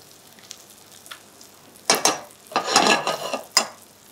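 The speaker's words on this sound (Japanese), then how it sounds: "皮面をカリッと焼き上げます。" Chicken breast sears skin side down in a pan over medium-high heat, quiet at first, then bursts of loud sizzling spit and crackle swell in several waves close by, with no talking.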